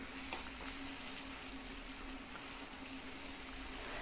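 Steady, quiet sizzling of popcorn chicken frying in hot oil, a constant crackling hiss with a faint hum underneath, no voices.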